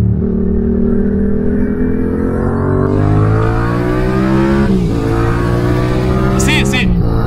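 A Yamaha MT-07 motorcycle fitted with a full Mivv exhaust revs loud and close, its deep engine note rising steadily and dipping briefly before climbing again, while people talk over it.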